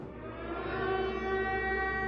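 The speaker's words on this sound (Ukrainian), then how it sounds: "поки на дворі лунає повітряна тривога" An air raid siren wails outside in Lviv, a steady sustained tone holding at loud level throughout with slight echo, heard on its own without talk.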